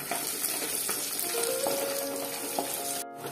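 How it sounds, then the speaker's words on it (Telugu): A handful of peanuts fries in a pan with a steady, dense sizzle, with occasional stirring scrapes and clinks over a few seconds, close and fairly loud. "ఒక గుప్పడు పల్లీలు వేసుకొని ఫ్రై చేసుకోవాలి."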